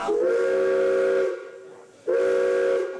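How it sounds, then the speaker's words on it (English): Steam whistle of the 74-year-old heritage steam locomotive M5, restored after retirement: two loud, sustained whistle blasts over hissing steam, the first about a second long, a short pause, then a second blast, close and clear with no talking. "Locomotive M5 returning in full steam after its retirement"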